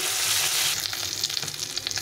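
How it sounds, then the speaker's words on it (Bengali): Fish frying in a pan with oil, a loud, close, continuous sizzle that breaks into crackling pops partway through. "মাছগুলো আমি ভেজে নিচ্ছি"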